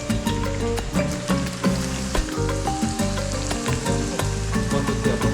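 Plantain slices for patacones sizzle steadily in a deep fryer, a dense, constant crackle and hiss with scattered pops, close and continuous throughout.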